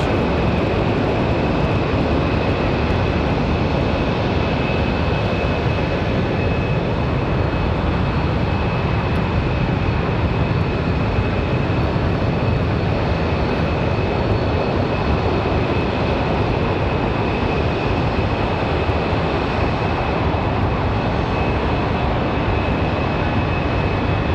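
Airliner jet engines at Raleigh-Durham International Airport hold a loud, steady roar for the full stretch, dense and unbroken, with a faint high whine on top and no one speaking.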